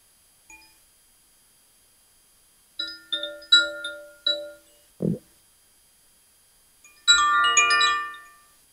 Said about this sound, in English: allowing the sound of the chime to remind you how beautiful life is